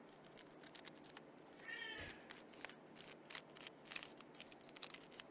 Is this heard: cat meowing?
yes